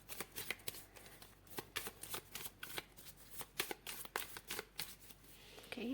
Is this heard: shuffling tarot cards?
yes